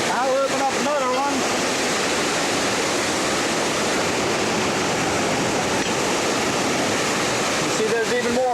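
A second wicket opened on a canal lock sends even more water pouring in, a continuous loud rushing roar across the whole stretch, with brief talk at the start and the end.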